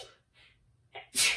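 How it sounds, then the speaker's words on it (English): A single sharp sneeze from a woman during a yoga class, preceded by short catching breaths, close and fairly quiet in an otherwise still room. "I feel a sneeze coming on"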